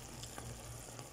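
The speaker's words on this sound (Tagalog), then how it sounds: "Yan, kumukulo na mga guys." Water bubbles and simmers steadily in a cooking pot, making a soft, continuous, crackling hiss that carries on alone without any talk.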